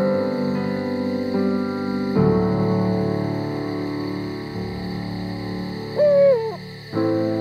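An eagle owl hoots at night in the Iberian countryside, its deep calls set against a sustained musical backdrop, with a clearer wavering hoot standing out near the end.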